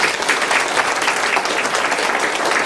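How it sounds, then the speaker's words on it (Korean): Steady, dense applause fills the hall at an academic memorial conference for a Buddhist master, a continuous wash of many hands clapping from a seated crowd. "박수 한번 주시죠."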